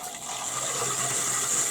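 Water rushes from a La Torre faucet freshly fitted with a new K35B ceramic disc cartridge, a steady, fairly quiet hiss of flow running briefly and alone.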